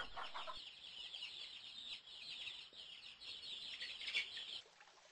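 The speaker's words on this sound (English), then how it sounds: "This is a chicken." A farm chicken clucks and chirps in a busy, repeated stream of short, high calls, close and fairly faint, cutting off abruptly near the end with no one talking.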